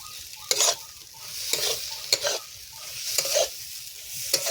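Soybean roll filling fries in a pan with a steady sizzle, while a spoon stirs and scrapes through it in repeated short bursts, close and alone with no talk.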